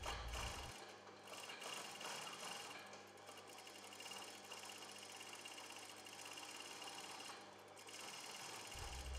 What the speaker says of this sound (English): Commence sewing on the right side of the fabric, encasing the raw edges inside the sewing line.